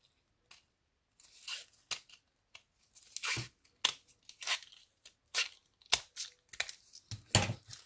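Paper scraps for scrapbooking are cut in two, giving a series of short, close crisp snips and crinkles separated by brief pauses, with no talking.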